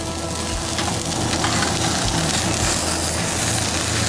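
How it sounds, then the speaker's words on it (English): Lamb chops sizzle and crackle on a Weber kettle grill over open flame, a steady, dense frying hiss that stays loud and close throughout with no talking. "Ooh, sizzling hot."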